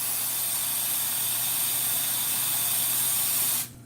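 Hot water and steam jet cleaning a silver-plated ring, a loud, steady hiss that holds without a break for several seconds and then cuts off sharply at the end, with no talking.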